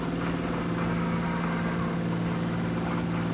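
Sailboat's auxiliary engine running steadily near Chichester Harbour, a loud continuous low drone with a constant hum throughout, no talking.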